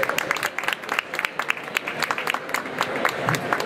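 An audience at a trade fair stand claps steadily in dense applause, many hands close by, holding fairly even in loudness throughout.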